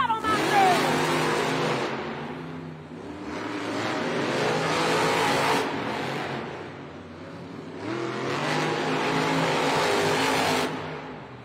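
Gravedigger monster truck racing head-to-head in an indoor arena at a Monster Jam event in Portland, Oregon, its engine roaring and revving in loud surges that rise and fall, with crowd noise and a commentator's voice mixed in.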